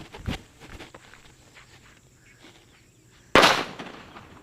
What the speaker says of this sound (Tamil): நாட்டு வெடியில் லட்சுமி வெடி எப்படி இருக்குது அப்படிங்கிறத பார்த்துருவோம்